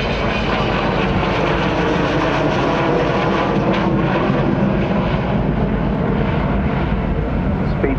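Avro Vulcan jet bomber at the Shoreham Airshow, its engines roaring loud and steady throughout in a broad, continuous wall of sound.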